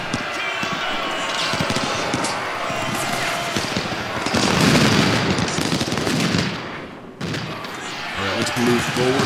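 Cannon and rifle fire from a Civil War battle at Chickamauga in Ultimate General: Civil War, a dense continuous crackle of musketry with heavy booms, loud and sustained, with a voice talking over it.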